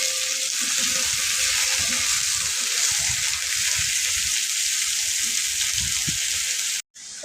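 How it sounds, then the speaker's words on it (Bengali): Eggplant, potato, green chili and onion fry in hot oil with a steady, close hiss and sizzle, broken by faint stirring clatter and a brief drop near the end. "এই যে বেগুন, আলু, তারপর কাঁচামরিচ, পেঁয়াজ এগুলো আগে ভেজে নিচ্ছি"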